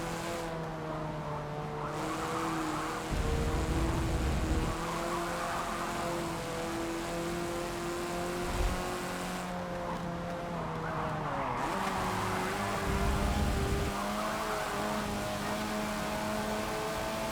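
Race car engine in Forza Motorsport 7, a vintage sport compact, droning steadily through long revving pitches that fall and rise as the car skids through turns, with short bursts of tire squeal between.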